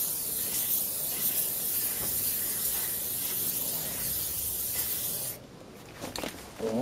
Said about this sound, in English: The inside deserves a spray on its own.